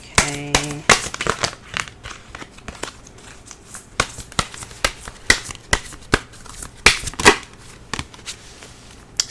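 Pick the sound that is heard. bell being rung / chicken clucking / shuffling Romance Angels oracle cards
shuffling Romance Angels oracle cards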